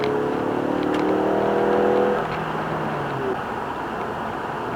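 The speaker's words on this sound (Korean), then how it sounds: "자 킥다운 하면 엔진음이 이렇게 살아나죠." A Ford Mustang engine, 314 horsepower, roars loudly at high revs on kickdown, its pitch climbing before easing off into a steadier drone with road noise.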